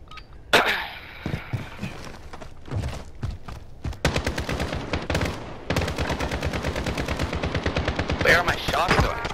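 Gunfire in a shooter video game match: a few scattered shots and impacts at first, then sustained rapid automatic fire, loud and close, with voices at times.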